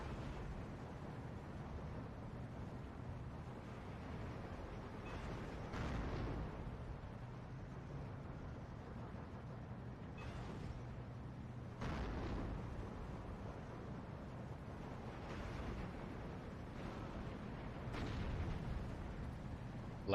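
StuG IV tank guns in Steel Division 2 fire on a unit, producing a series of muffled booms every few seconds over a low, steady battle rumble. The shots sound fairly distant and subdued.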